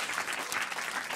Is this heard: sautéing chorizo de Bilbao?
no